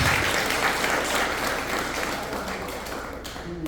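An audience applauds to honour an elderly bhajan singer at a community event recognising members over 85, with steady dense clapping that fills the room and fades slightly near the end.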